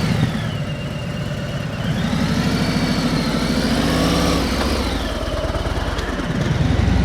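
A borrowed motorcycle engine runs steadily during a private riding lesson, its pitch rising and falling as the rider picks up speed, close and continuous with no talk over it.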